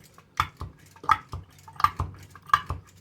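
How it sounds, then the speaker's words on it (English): Two eggs are whisked in a cup, with four or five distinct clinking taps and wet sloshes spaced about evenly, close and soft against a quiet room. "now I'm going to get my 2 eggs, and I'm just going to whisk them"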